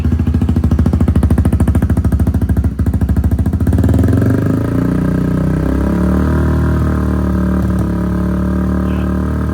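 A new motorcycle engine is revved hard to about 5,000 RPM, a loud, close, rapid pulsing roar held for several seconds. It then settles into a steady, lower idle hum with no one talking.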